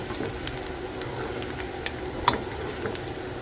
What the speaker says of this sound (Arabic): وبنضلنا نقلب شوي